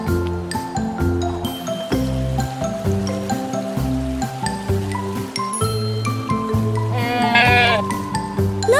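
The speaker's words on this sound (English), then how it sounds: "Look, Jack, a mountain goat." In a cartoon, a mountain goat gives repeated bleats over a bright, bouncy musical score with chiming, tinkling notes and a rushing flourish near the end.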